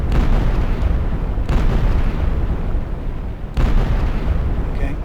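Game gunfire from a weapon in an Unreal Engine 4 project, a loud sustained roar of blasts with two sharp renewed bursts, close and dense, no talking.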